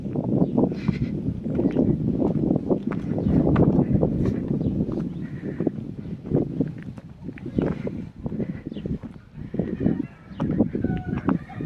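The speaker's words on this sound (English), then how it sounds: "Can you all hear those chickens or cockerels?" Roosters crow repeatedly amid busy outdoor noise, with rhythmic clopping and murmuring voices throughout.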